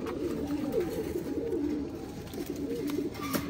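A pair of Kala Shikra pigeons coo steadily up close, soft repeated low warbling rolls running continuously with no talk.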